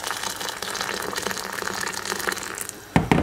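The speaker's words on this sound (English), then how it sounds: "Adding hot water to my pepper." Hot water poured onto pepper while cooking fish soup, a steady close gushing pour that runs for a few seconds and then ends in a brief louder splash or clatter.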